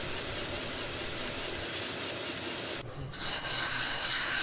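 A belt grinder with a fine Trizact belt finishes a straight razor blade, giving a continuous close, harsh rasping hiss. Partway through the tone shifts briefly as the blade pressure changes, then the grinding resumes at a slightly higher pitch.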